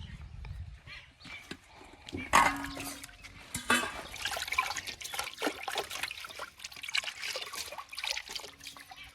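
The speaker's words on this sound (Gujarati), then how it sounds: "હવે આપણે ટામેટા પણ ધોઈ કાઢીશું." Tomatoes rinsed by hand in water outdoors on a farm in cold morning air, giving irregular splashes, trickles and drips up close, with brief louder sloshes between quieter dribbling and a faint voice now and then.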